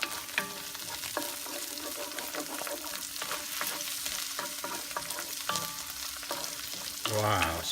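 Fried tofu and spring onions being stirred in a hot pan, a constant sizzle punctuated by repeated scraping clicks of the utensil against the pan, ending in a louder clattering stir, close and without talking.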